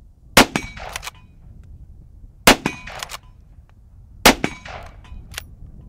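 Straight-pull rifles firing in a speed test outdoors: three loud, sharp shots spaced about two seconds apart, each followed closely by the clack of the bolt being cycled.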